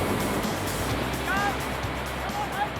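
Big surf waves at Bondi Beach make a steady, loud, broadband roar of breaking water that fills the whole stretch, with a faint voice over it.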